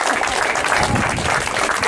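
A crowd at a vintage cycling event in Villedieu-les-Poêles gives a final round of applause for the podium, continuous outdoor clapping with some low rumble underneath, steady throughout.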